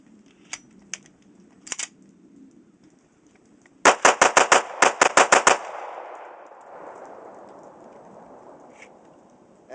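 A 1911 pistol fitted with a bushing compensator fires a quick string of about eight sharp, close shots, followed by a lingering outdoor echo. Fainter clicks come before the string.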